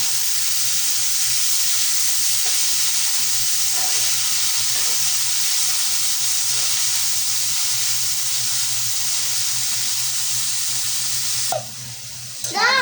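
Boiled spinach frying with onion in a pan, stirred; a steady, close sizzle runs unbroken for most of the time, ending with a brief clatter of the spatula.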